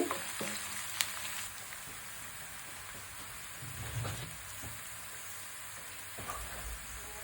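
Thinly sliced onions fry steadily in a pan for a prawn malai curry, giving a continuous close sizzle with soft crackles and a few louder pops, with no talking.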